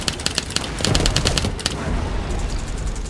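Rapid bursts of gunfire in a VR shooting game played with a DeadEyeVR Enforcer gunstock, loud sharp cracks in quick clusters and a dense volley in the middle, with a brief stretch of steadier noise.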